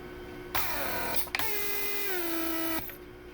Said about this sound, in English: first it creates pressure and then it creates vacuum